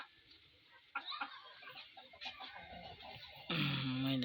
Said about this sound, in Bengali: দেখেন, বেশ কিছু মুরগি আছে